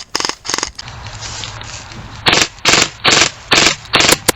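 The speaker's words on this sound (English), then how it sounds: "I'm just suppressing fire as much as I can with this big box mag" An airsoft LMG fed from a big box magazine fires several rapid bursts of snappy, rattling shots close by, with short pauses between strings.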